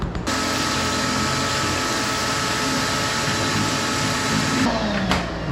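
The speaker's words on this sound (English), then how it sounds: "We're gonna do a better job of vacuuming." A vacuum cleaner runs steadily while cleaning around the gas tank of a Pinto Cruising Wagon, a loud, constant whooshing drone that holds for several seconds before cutting off near the end.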